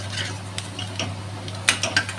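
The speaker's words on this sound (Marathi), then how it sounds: "मिक्स झाल्यावर आधी मसाले चांगले भाजून घ्यायचे, परतून घ्यायचे।" Spices stir-fried in a hot oil tempering while preparing a rustic jackfruit vegetable dish, with soft scraping and stirring strokes, a few sharper clinks of a spatula against the pan near the end, and a low steady sizzle underneath.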